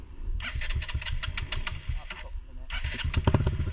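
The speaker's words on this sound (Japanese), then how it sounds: "スタートエンジンかけれる？" An off-road motorcycle engine cranks and sputters to life in two rough bursts on a forest trail, close by, with a voice speaking briefly in between.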